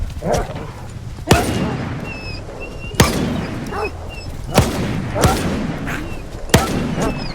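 Dogs bark repeatedly in STALKER 2 while sharp, loud gunshots ring out at roughly regular intervals, several shots in a row between the yapping.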